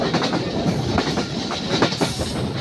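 A passenger train rumbles steadily past Bheramara toward the Paksey Hardinge Bridge, with rhythmic clickety-clack from the wheels and occasional high metallic whines, heard from on board.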